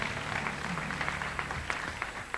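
Studio audience applauding loudly on a French children's TV talent show, a dense steady wash of clapping with no gaps across the whole stretch.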